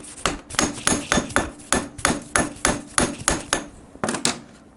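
Steel drift struck with a hammer to knock case studs out of a Harley-Davidson Evolution engine case, about fifteen sharp metallic blows in a steady rhythm, close and loud with ringing decay.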